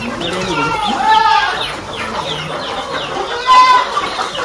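Chickens clucking inside a farm chicken coop that also houses goats, several birds calling close by in overlapping bursts, with one louder squawk near the end.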